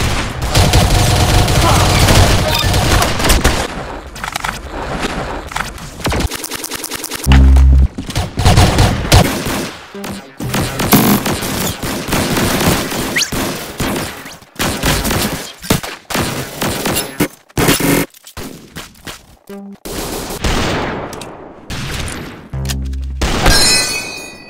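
Gunfire in the Roblox game Arsenal comes in loud, rapid bursts and volleys with sharp impacts and brief gaps, dense and close throughout, some game effects mixed in.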